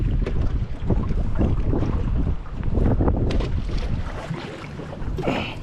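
Strong wind buffets the microphone during sauger jigging from a boat on the Mississippi River in extremely windy conditions, a loud continuous roar with gusting surges and splashing water throughout.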